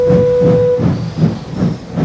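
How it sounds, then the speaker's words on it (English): A steam train heaves out of a station with rhythmic chuffing that pulses steadily, a sustained whistle tone at the start and a constant hiss of steam underneath, close and fairly loud. "the guard blew his whistle, waved the green flag, and Hero heaved the heavy train out of the station"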